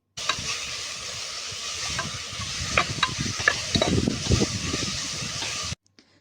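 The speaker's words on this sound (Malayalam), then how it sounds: "അങ്ങനെ നമ്മുടെ വെളിച്ചെണ്ണ ചൂടായപ്പോൾ അതിലേക്ക് സവാള അരിഞ്ഞതിട്ടു" Chopped onion fries in hot coconut oil at a lakeside campsite at Al Qudra Lakes in the UAE, giving a loud, steady sizzle with crackling pops that cuts off abruptly near the end.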